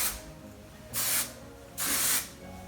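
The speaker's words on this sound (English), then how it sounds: "So I'm just going to spray that into my hair." Kevin Murphy Bedroom Hair texturizing hairspray misted into hair, two short loud aerosol bursts of hiss separated by a brief pause, close to the listener.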